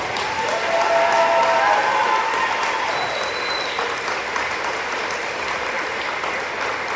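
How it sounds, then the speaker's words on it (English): Sustained applause from a graduation audience for fifth graders at Lindbergh Elementary, a dense, steady wash of many hands clapping at full strength for about seven seconds, with faint crowd murmur underneath. "One final round of applause for our fifth graders."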